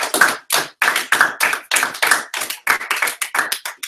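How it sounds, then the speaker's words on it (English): A close, lively round of applause from a small audience at a spring project showcase, with sharp, distinct claps in quick irregular bursts and no talk over it. "We're going to give you a nice round of applause"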